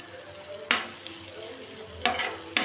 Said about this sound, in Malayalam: ഇത് മിക്സ് ആവുന്ന വരെ വഴറ്റി കൊടുക്കുക.